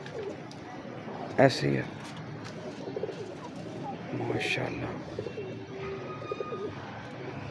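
Breeder pigeons at a home loft coo softly in the background, with a few louder bird calls breaking through while someone talks over them throughout.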